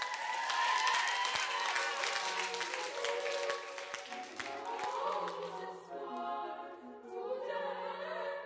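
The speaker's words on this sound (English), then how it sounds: "Give yourselves a round of applause." Young trebles in an Oxford choir setting are met with a warm burst of clapping and cheering that fades into lighter scattered applause, moderately distant and alone.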